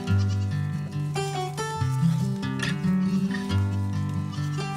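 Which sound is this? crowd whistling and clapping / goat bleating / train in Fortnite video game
goat bleating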